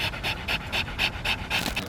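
A Belgian Malinois pants rapidly and close up, quick rhythmic breaths about four per second, with no voices.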